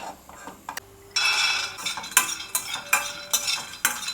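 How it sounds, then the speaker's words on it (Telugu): Onions, chillies and ginger garlic paste fry in a pan. A sizzle swells in after about a second, and repeated spatula scrapes and metallic clinks land at irregular intervals over it. "అల్లం వెల్లుల్లి పేస్ట్ కూడా వేసేసుకునేసి బాగా ఫ్రై చేసేసుకుంటున్నాను"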